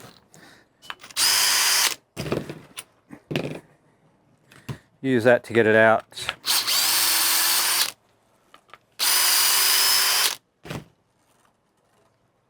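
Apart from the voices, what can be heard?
power drill removing screws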